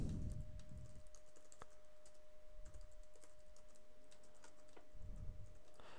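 Typing on a computer keyboard while writing a Python script, with soft, quick key clicks in irregular bursts over a faint steady hum, close and quiet, with no talk.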